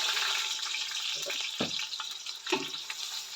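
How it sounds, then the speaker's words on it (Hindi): Onions sizzle in hot cooking oil with a bright, steady hiss, broken by a few soft clinks and stirring scrapes from a utensil, close up and with no talk. "ऑयल गर्म हो चुका है, अब इसमें डालूंगी प्याज"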